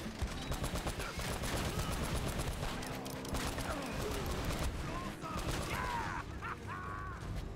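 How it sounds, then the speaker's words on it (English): Dense, continuous gunfire and explosions from machine gun and grenade launcher in the Uncharted: Drake's Fortune video game, loud and sustained with shrill bird-like cries and voices mixed into the battle noise. "I'm just gonna fire both the grenade and the machine gun."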